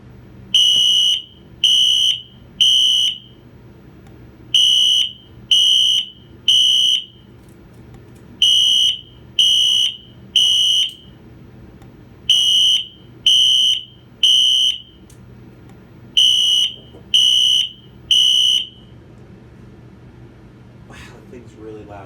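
Wheelock NS-24-MCW fire alarm horn on high setting sounding code 3: five sets of three loud, piercing blasts with short pauses between sets, close and dominant, then the horn stops and only faint room noise remains.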